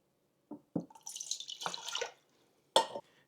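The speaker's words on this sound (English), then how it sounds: "Next, we're going to add 1 cup of water." Water being poured into a sourdough starter mix from a measuring cup, with a few soft splashes, then a steady trickling pour lasting about a second, and a final brief splash, close and clear with no talking.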